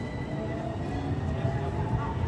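A tram pulls away from a station in Italy, a steady low rumble and rolling drone that holds for a couple of seconds, with faint voices nearby.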